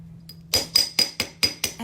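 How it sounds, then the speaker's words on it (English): Seven quick, sharp metallic strikes of a multifunction hammer's ball peen head on metal, evenly paced and close, ringing briefly after each blow over a faint hum. "another head that is inserted into the multifunction hammer, okay? This is the chasing head"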